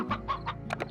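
A chicken in the video game Slime Rancher gives a quick run of close, clear clucks, four or five short notes in under a second, over a steady low game background hum.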